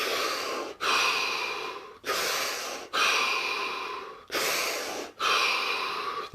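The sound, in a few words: deep breathing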